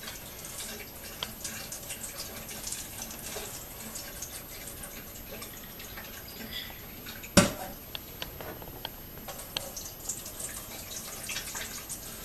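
Soaking water from sprouting grains poured through cheesecloth and a strainer over a sink, a soft continuous trickle and splatter with occasional drips and one sharp knock midway.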